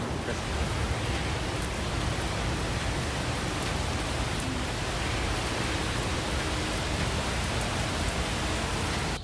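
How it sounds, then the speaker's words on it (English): Steady rain hisses in a dense, even wash of noise outdoors, loud and continuous without pause. "I'm sitting here and it's starting to rain."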